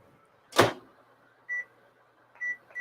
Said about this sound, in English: I'm just going to microwave it for like 15 seconds